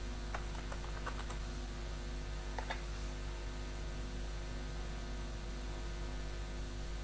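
A short burst of quick keystrokes on a computer keyboard, then a brief second cluster, faint and close over a steady electrical hiss and hum.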